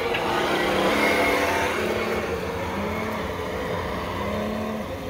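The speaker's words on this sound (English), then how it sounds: "I'm going to go full speed across the grass here on the low." An Imex HG-P408 Humvee RC car runs at full speed across grass in low gear, its electric motor giving a steady, loud whine with slight shifts in pitch. No voices are heard over it.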